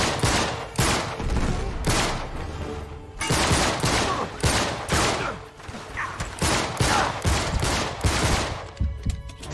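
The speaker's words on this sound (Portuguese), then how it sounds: "Esses caras só dão tiro nele." Rapid bursts of gunfire in Uncharted 3: Drake's Deception come loud and close, with dense rattling volleys repeating in quick clusters and only brief gaps between them.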